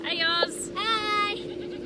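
Goats bleat in quick succession, two wavering, nasal calls close by against a quiet background hum.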